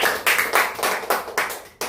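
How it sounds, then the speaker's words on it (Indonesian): A small group claps hands in a quick burst, several sharp overlapping claps in an uneven rhythm, close and fairly loud, then a final clap after a brief pause. "Tepuk tangan dulu untuk kita semua."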